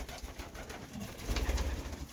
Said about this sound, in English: We got our birds also here.